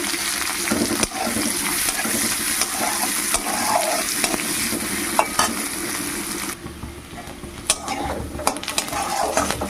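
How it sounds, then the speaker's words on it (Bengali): Onions fry in hot oil in a pan with a constant close sizzle, broken by scraping and clicking stirring strokes, and no talk. "এবার পেঁয়াজগুলো ভেজে নেব"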